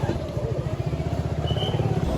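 A motorcycle engine pulses in a steady low throb close by, its rhythmic putter continuing under faint background voices as the bike sets off.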